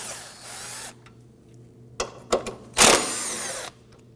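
Tool whirs in short bursts as 10mm bolts securing the headlamp assembly on a 2008-2011 Ford Focus are loosened: a burst at the start, a few quick pulses, then a longer close whir near the end.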